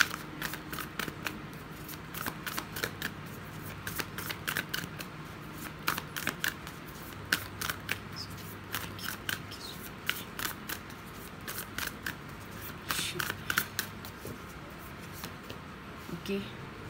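Tarot cards being shuffled and handled up close during a pick-a-card reading, producing a steady run of crisp riffling snaps and clicks over about seventeen seconds, some sharper bursts standing out above a low, constant background hum.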